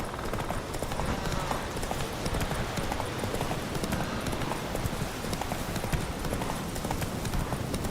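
Roach the horse gallops through a Witcher 3 game scene, a steady dense clip-clop of hooves running throughout at close range, with a faint voice underneath.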